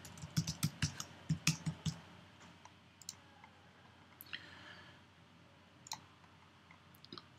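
Rapid clattering keystrokes on a computer keyboard as a username and password are entered, a quick burst of close clicks at the start followed by scattered single taps, quiet and without speech.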